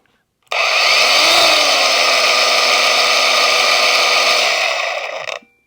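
An Anbull brushless dual-battery angle grinder spins up at its lowest speed setting, a loud, steady whining hum that holds for several seconds before cutting off and winding down abruptly.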